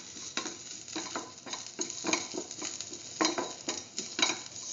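Ginger and salt are stirred in a frying pan: a steady sizzle runs under repeated scraping strokes of a utensil against the pan, close and moderately quiet, with no talk.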